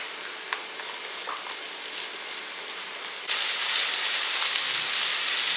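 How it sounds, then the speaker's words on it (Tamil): Crushed garlic drops into hot oil in a pan, and a steady sizzle jumps to a louder, brighter frying hiss that carries on close and constant. "இந்த தட்டின பூடெல்லாம் எடுத்து நம்ம எல்லாமே எண்ணெய் சட்டியில் இப்படி போட்டுடலாம்."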